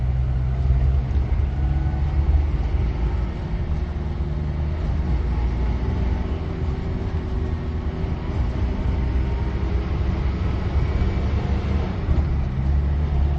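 A 1977 Ambassador Mark 3 car drives steadily with a constant low engine drone and road rumble, loud and close, through an overtaking maneuver with no voices.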